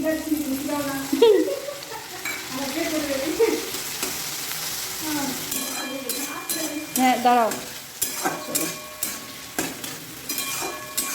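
Potatoes frying in a pan with ginger-chili paste, stirred with a utensil; steady sizzle with scraping strokes and a few clinks, and someone talks over it in places.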